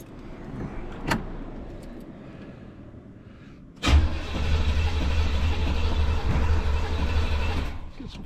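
A Pontiac car engine being cranked: a brief click, then the starter whirs and the engine catches into a loud steady running drone for several seconds before cutting off.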